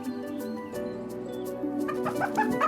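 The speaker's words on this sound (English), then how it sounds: "The next day, the chicken is full of energy." A chicken in an animal shelter clucks and chirps in short bursts over steady tonal background hum, fairly close and clear, with no one talking.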